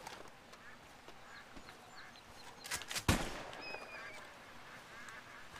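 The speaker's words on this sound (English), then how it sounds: "I can hear them ducks." Ducks and geese quack and honk in a video game, several calls scattered across the moment with a sharp gunshot-like burst in the middle, amid faint background game sounds.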